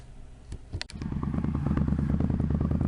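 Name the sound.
motorcycle engine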